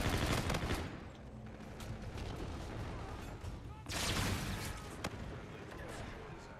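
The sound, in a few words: gunfire from the video game Call of Duty: Infinite Warfare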